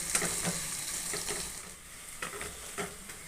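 Soybean chunks fry in an oily pan at home, giving a continuous soft sizzle broken by occasional stirring scrapes and brief crackles, close and moderately quiet with no voices.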